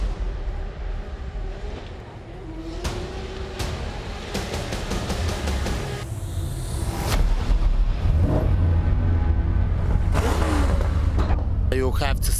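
High-horsepower drift cars at a street parade in Riga, engines rumbling and revving in a continuous wall of noise, with bursts of acceleration and a few sharp pops near the end.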